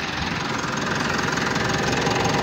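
A vehicle engine idles steadily right after a fuel filter replacement, a close, even low rumble with a slight knocking pulse and no talking over it.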